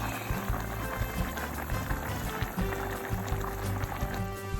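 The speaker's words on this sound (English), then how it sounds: "So this is boiling for around an hour." A pot of Korean beef stew bubbles at a steady simmer, soft gurgling and popping with a low background hum, fairly quiet and close.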